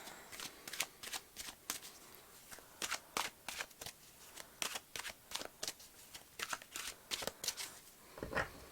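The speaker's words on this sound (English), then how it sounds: "Now I'm gonna shuffle them" Tarot cards being shuffled by hand at close range, a quick series of crisp riffling bursts and flicks repeating irregularly with short pauses between, with no voices.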